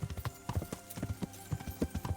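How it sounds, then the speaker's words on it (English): Horse hooves clip-clop in Kingdom Come Deliverance in a quick, steady rhythm of close, hollow thuds. The gait stays regular over a faint background bed. "I see horses."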